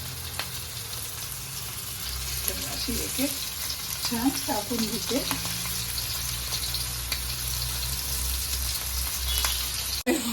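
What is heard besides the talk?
masala-coated prawns frying in oil on a tava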